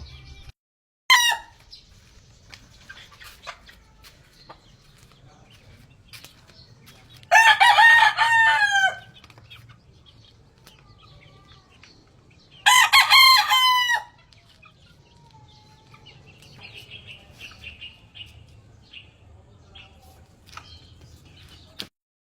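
Roosters crow twice, loud and close, with scattered clucks and faint bird chirps in between against a quiet farmyard background.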